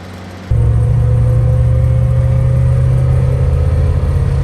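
A 1994 Lada Niva rolling downhill at 80 km/h, heard from inside as a loud, steady low engine drone and road rumble that comes in abruptly and holds constant throughout.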